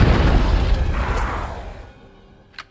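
A red barrel shot and exploding in Resident Evil Village: a single loud blast that rolls and decays over about two seconds into near silence, with a small sharp pop just before the end.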